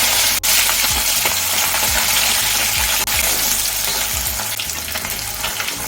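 Pabda fish frying in hot mustard oil, a loud continuous crackling sizzle with occasional spatters and low bubbling, close up and without speech.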